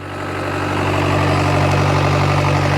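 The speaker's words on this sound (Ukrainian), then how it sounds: "Трактор їде." Tractor on a farm in Switzerland, its engine running with a steady droning hum and low harmonic whine, loud and close, building slightly at the start and holding constant.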